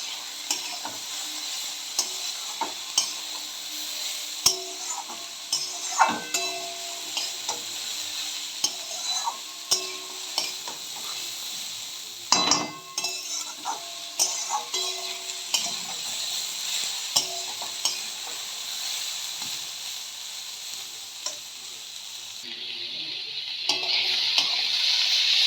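Shredded cabbage sizzles and is stirred in a pan over a high gas flame with a little turmeric, with steady frying hiss broken by repeated scraping and clinking of a spatula against the pan.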